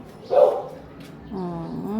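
A dog gives a short, close bark, then a longer tonal vocal sound follows a moment later.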